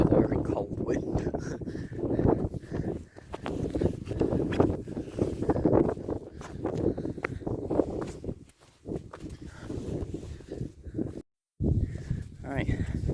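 Strong cold wind gusts across a mountain hillside on Aran Benllyn, buffeting and roaring steadily with footsteps crunching underneath, while a person talks over it throughout.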